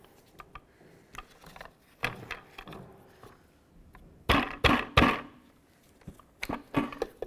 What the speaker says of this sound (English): I'm gonna use my socket as something to basically hold onto it, and I'm just gonna tap it.